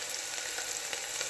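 Carrots tipped into a hot pan of oil for masala khichdi, sizzling and frying steadily and loudly up close with no pauses and no voices.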